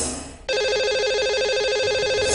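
A telephone line ringing while a radio show calls a caller: after a short quiet hiss, a loud continuous warbling electronic ring starts abruptly and holds steady, with no voices.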